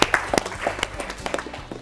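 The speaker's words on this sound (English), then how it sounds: "So let's clap for them as well." Audience clapping for a school quiz team on stage, a short burst of scattered applause at moderate volume with uneven claps that thin out toward the end.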